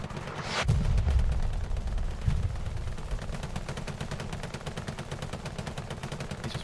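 A machine gun fires in a competitive video game match on the Sainte-Mère-Église map, a rapid continuous rattle of shots with a few heavier booms mixed in, loud and sustained throughout.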